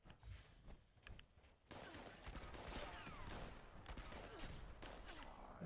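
A Broadsider cannon in Fallout 76 fires, first as a few softer distant pops and then as a loud, sustained barrage of blasts and crackling impacts that continues to the end.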